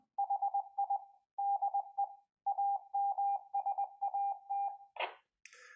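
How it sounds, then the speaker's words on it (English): A steady tone keyed on and off in rapid dots and dashes, a Morse code ID transmitted by a CubeSatSim over radio, ending with a brief burst of static. "So it's just transmitting a Morse code ID"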